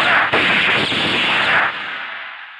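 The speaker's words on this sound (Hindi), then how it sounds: "ये गोलियां तो हवा में चली हैं" Gunshots fired into the air in a Hindi action film scene ring out as loud sharp cracks, one sudden burst followed by another, with a broad reverberant tail fading away.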